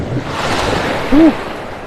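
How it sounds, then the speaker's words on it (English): Surf washes around someone standing in the water at Pelican Bay beach in North Naples, Florida, with a steady close rush of a small wave breaking and wind buffeting the microphone, plus a brief tonal squeak. "that wave got me. Broke right on top of me. That little wave."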